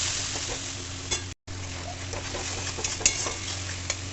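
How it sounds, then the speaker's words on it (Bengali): A spice paste of ground ginger, garlic, onion, cumin, coriander, chili, mustard and poppy seed is stirred in a pan for a prawn and potato curry, with a steady soft sizzle, spoon scrapes and a brief dropout, close up without talk. "এখন মশলাটা ভালো করে কষে নেব"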